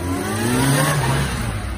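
Police motorcycle engine revving steadily during a police safe-riding competition in Hyogo, a continuous mid-pitched drone that swells slightly and holds near and loud with no talk.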